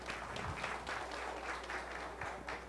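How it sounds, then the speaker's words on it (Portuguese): Audience at an annual biotechnology company convention applauding, a thick, even roar of clapping from a large crowd filling the whole short stretch. "Então vamos aplaudir agora, porque vocês têm de aplaudir na mesma proporção."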